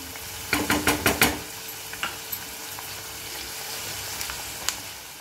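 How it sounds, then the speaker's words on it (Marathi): Onion sautés over a medium flame for Malvani chicken sukka. A quick run of five loud spatula knocks against the pan comes first, then a softer sizzle with scattered lighter scrapes. "गॅसची फ्लेम मीडियम ठेवायची आणि कांदा छान परतून घ्यायचा"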